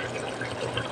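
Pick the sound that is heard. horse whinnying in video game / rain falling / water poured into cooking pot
water poured into cooking pot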